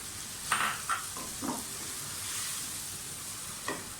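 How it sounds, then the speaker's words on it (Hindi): Potatoes with dried fenugreek leaves fry in a pan with a soft, steady sizzle, broken by a few brief stirring scrapes. "आलू और मेथी जो है वो अच्छी तरह से मैंने भून ली है"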